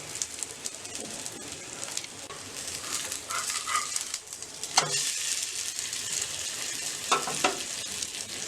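Vermicelli instant dosa batter frying in a pan on a low flame crackles and sizzles steadily up close, with occasional louder spatters and utensil knocks in the background.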